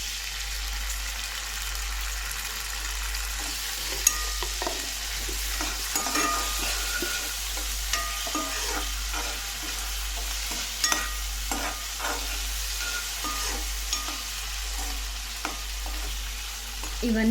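Ginger garlic paste fries in a hot pan with a steady broadband sizzle, while a spoon stirs it and scrapes the pan in repeated clinks and scrapes. A low hum runs underneath.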